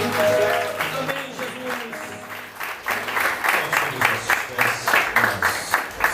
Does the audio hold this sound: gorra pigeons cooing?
no